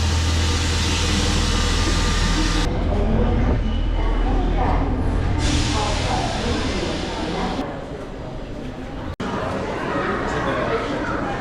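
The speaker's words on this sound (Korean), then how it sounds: "오늘은 자벨역에서 반대 방향으로 가는 기차를 타고 베르사유 궁전으로 가요." A train rolling from Javel station toward the Palace of Versailles near Paris gives a steady, loud rumble and rushing noise with abrupt shifts in tone, and people's voices murmur through the carriage.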